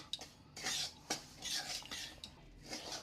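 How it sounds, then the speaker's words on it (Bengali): A utensil stirring semolina mixed with a little Gobindobhog rice flour in a pan, with soft, close scraping and rubbing strokes in an uneven rhythm, quiet and without talk. "অল্প একটু জাস্ট নেড়ে নেবো"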